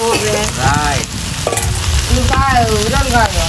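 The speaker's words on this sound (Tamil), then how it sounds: "வெங்காயம் வதங்கி" Onions sauté for biryani in wedding-scale cooking, hissing and sizzling loudly up close while being stirred, with scraping and a few squeaky tonal sounds over the frying.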